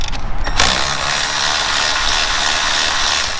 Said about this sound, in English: I know I'm using this cordless, I'm doing this for speed